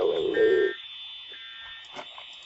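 A school fire alarm sounds with a steady high electronic tone throughout, while a brief loud noise opens the clip and small knocks and movement follow beneath it.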